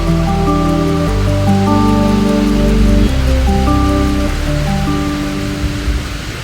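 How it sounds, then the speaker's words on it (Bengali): Heavy rain pours steadily in the evening during a power cut, a dense even hiss close by with a low tonal hum running underneath, no voices. "তোমাদেরকে একটু বৃষ্টিটা দেখাই।"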